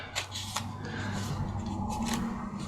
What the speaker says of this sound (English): Grab those scissors here. Just nip that little thing.